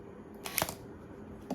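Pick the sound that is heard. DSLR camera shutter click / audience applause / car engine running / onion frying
DSLR camera shutter click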